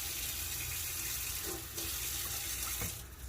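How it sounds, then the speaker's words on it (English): Tap water runs steadily into a bowl set up for cleaning a dirty shoe, a continuous faint rushing stream with a brief splash change midway, no talking. "Just add water to our bowl here."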